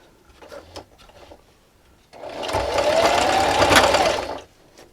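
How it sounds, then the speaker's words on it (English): Sewing machine running a steady stitch through fabric scraps for dish scrubbers, a loud continuous whir lasting about two seconds after a few quiet handling clicks, then stopping. "I'm going to backstitch at the beginning."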